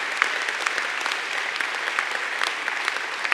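A crowd applauds steadily at the Salesforce Transit Center opening ceremony in San Francisco, dense clapping from many hands at moderate distance, sustained without a break.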